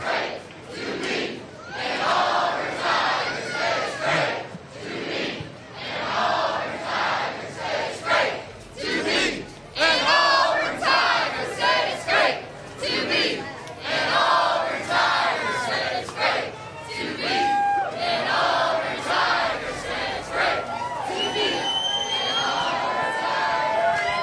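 Large outdoor crowd at the Auburn Tiger Walk before an NCAA Final Four game against Florida, with sustained cheering, shouts and chanting swelling and surging throughout, dense and continuous with occasional louder bursts.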